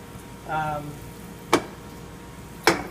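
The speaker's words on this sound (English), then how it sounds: "And I can see that it's sizzling." Floured meat sizzles steadily in a pan, browning for a braise, a constant frying hiss with a brief voice early on and two sharp clicks or taps.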